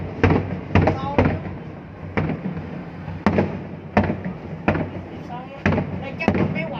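Large fireworks bursting over Ninh Kieu, Can Tho, at a New Year 2024 eve celebration, a series of loud booming explosions with rumbling tails in an irregular rhythm, people talking in between.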